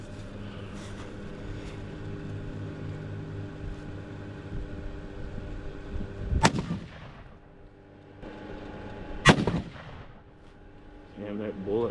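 Two sharp, hard-hitting rifle shots ring out a few seconds apart over a steady low engine-like drone, each with a short trailing echo.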